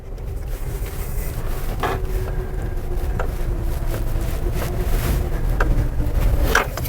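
A 2020 Toyota Land Cruiser, a heavy 5,800-pound SUV, crawls off-road down a small ravine, a steady low engine rumble with wind buffeting, rattles and occasional knocks from the terrain, continuous and close.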